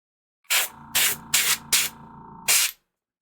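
Airbrush spraying primer onto tabletop miniatures in five short hissing bursts of air, each about a quarter second, close and loud with brief pauses between.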